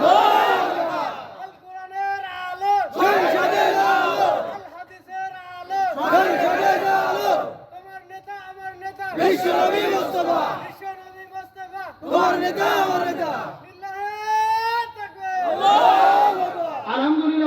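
Large crowd chanting the takbir, Allahu Akbar, in unison at a religious gathering, a leader's call followed by loud collective responses, repeated in about six rhythmic waves with brief gaps between them.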